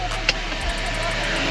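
A car engine warming up at idle: a steady, low rumbling hum that continues throughout, with one brief click near the start.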